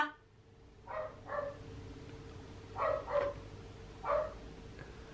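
A dog barks in short, fairly faint pairs, a couple of yips at a time with pauses between, against a quiet background hum.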